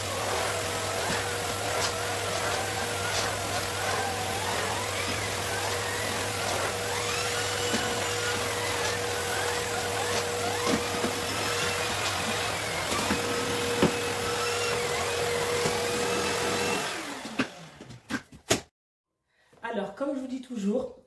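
A vacuum cleaner runs loud and steady across the back of a folded rug, its constant motor whine lasting until it cuts off near the end. A person talks over the noise.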